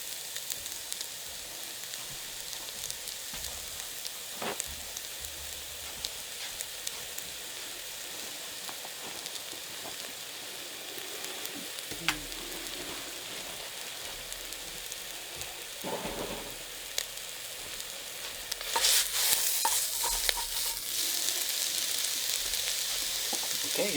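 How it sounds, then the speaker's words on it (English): Ingredients for a gluten-free smoked queso dip sizzle steadily in a pan, a dense, even crackling hiss with a few sharper pops and a louder flare of frying near the end. "Boom, sizzle, sizzle."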